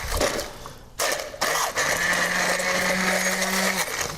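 An immersion blender whirs in a pot of steamed broccoli and potatoes with their cooking water, starting in short bursts, then running steadily with a rising whine for a few seconds, close and loud.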